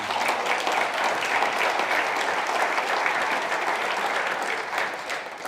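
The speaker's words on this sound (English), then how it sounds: "Please give her a round of applause." Audience applause for a county commissioner at a riverway summit event, dense steady clapping from a sizable crowd, holding evenly and fading slightly at the end.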